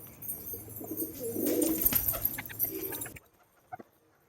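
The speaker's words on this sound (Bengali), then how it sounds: "আস্তে আস্তে সমস্ত পায়রাগুলোকে দানা দিয়ে আগে ভিতরে করে দিই" Loft pigeons coo softly while being given grain, low throaty calls blended with rustling and scattering of feed close by, then the scene drops to near quiet with a couple of faint taps.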